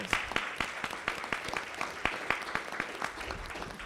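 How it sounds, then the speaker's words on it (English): At a school board meeting, a small audience claps for spelling bee students, with distinct, scattered claps that sound thin and somewhat distant. "So let's give them another round of applause"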